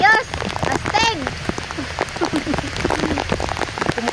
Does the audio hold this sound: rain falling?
yes